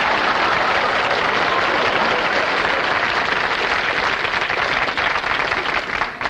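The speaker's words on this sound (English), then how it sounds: "Give the man a nice round of applause, please." A studio audience on the Johnny Carson Show bursts into a dense, sustained round of applause, loud and close, with many hands clapping steadily for about six seconds before it begins to thin out.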